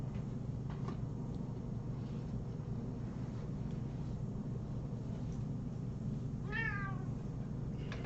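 Cats meowing at the Friends of Felines rescue center: a couple of faint meows early, then a clear rising meow later, over a steady low background hum.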